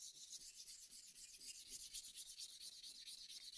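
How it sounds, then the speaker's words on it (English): Fresh sandpaper rubbed back and forth along the edge of a hand plane being cleaned and tuned, a soft, hissy scratching in steady repeated strokes, close and fairly quiet. "Fresh piece of sandpaper. Go over it."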